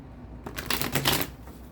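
A quick riffle of tarot cards being shuffled, crisp and close, lasting under a second.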